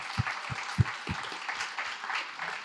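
Audience applause for the technicians Richard and Guillaume at a talk, moderately quiet steady clapping with a few sharper low thumps near the start.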